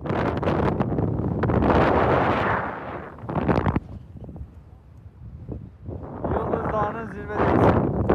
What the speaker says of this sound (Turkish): Müthiş rüzgar var.